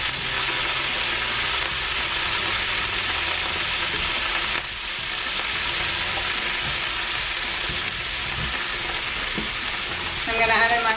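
Aromatics for fried rice sizzle hard and steadily in a hot pan, a loud continuous crackle with a brief dip midway and a scrape of stirring near the end.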